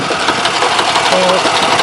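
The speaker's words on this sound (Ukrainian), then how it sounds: "от, трактор тягне" A tractor pulls a potato digger fitted with a mechanism from a KS-26 silage harvester during a potato harvest in a village in Sumy region, its engine droning loudly and steadily throughout.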